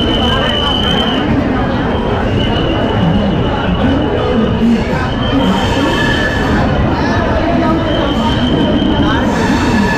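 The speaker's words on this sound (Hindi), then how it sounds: "तो अभी ट्रेन चल दी है" A crowded Bihar Sampark Kranti Express passenger train pulling out of a packed platform, loud continuous rumble and rattle with a steady high wheel squeal, dense crowd noise and voices over it throughout.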